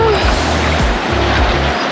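Atlantic Ocean surf at a beach, a steady broadband wash of waves with low rumbling swells rising and falling throughout, fairly loud and close, with no clear voices.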